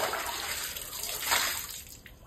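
Water runs and splashes steadily while goat intestines are washed, a broad hissing gush that holds close and loud for about two seconds before easing slightly.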